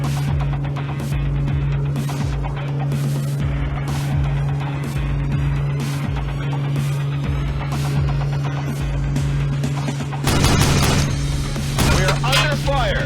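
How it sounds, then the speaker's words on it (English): Gunfire in a video game battle, heard as repeated loud close shots and impacts over a constant engine-like drone, with a heavier burst of blasts near the end and game voices in the mix. "We're under fire!"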